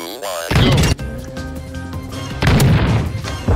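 Super shotgun fire in a video game: two loud, broadband blasts about two seconds apart, each followed by a ringing, clanking mechanical tail, with game music and effects running throughout.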